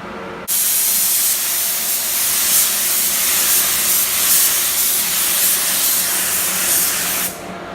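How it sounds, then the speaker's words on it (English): A spray gun lays base coat paint onto a car lip spoiler, giving a close, steady, loud hiss that starts abruptly, runs unbroken for about seven seconds, then cuts off, with no talking. "Now it's time to apply my first coat of base coat."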